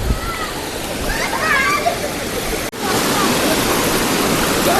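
A waterfall at 900 Kandi in Kerala's forest roars as a steady, loud rush of falling water, with faint voices mixed into the noise.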